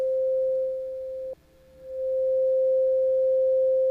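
A steady pure sine tone from a Reason Thor synthesizer holds loud and alone, drops sharply partway through, then swells back up gradually to full level.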